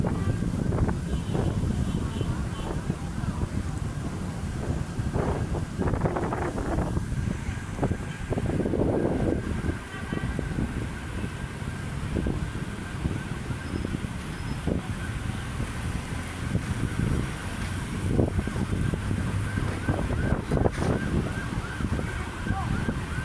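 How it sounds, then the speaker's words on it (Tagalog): Strong wind at Manila Bay roars steadily against the microphone with gusty low rumbles, and faint voices come through underneath. "Ayan, lakas ng hangin, no? Lakas."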